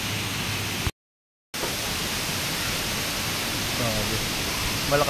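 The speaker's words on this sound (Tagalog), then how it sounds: "Malakas lang ang hangin guys" Strong wind buffets the microphone at a mountain resort in Paluan, Occidental Mindoro, a loud, steady broadband roar that keeps up throughout apart from a brief dropout near the start.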